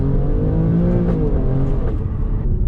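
An Alfa Romeo Stelvio Quadrifoglio SUV accelerates hard in race mode, its engine note rising steadily and loudly from close by, with no talking.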